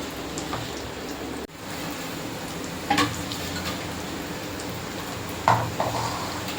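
Chicken tikki shallow-fries on a hot pan with little oil, giving a close, steady sizzle throughout, broken by a couple of louder spatters and clatters.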